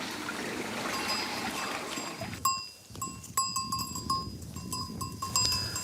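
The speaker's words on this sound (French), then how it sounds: "Les 80 chèvres de Loïc rentrent de la montagne" A herd of about 80 goats returning from the mountain near Saint-Tropez bleats at varying distances while water trickles steadily in the background.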